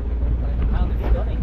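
Wind gusting over a boat at sea in rough, wavy conditions, a steady low rumble of air and water filling the recording, with a voice speaking faintly underneath.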